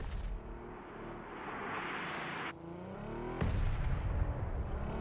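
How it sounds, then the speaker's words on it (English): Mortar fire in a battle royale video game: a sustained, heavy rumbling roar that cuts off abruptly and surges back with a loud booming onset, then keeps rolling at close range. "We have another mortar, even more mortars."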